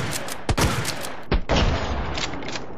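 A W870 pump shotgun fired in Resident Evil 2 Remake: two loud, heavy blasts about a second apart, each a sharp boom with a ringing tail over steady game background noise.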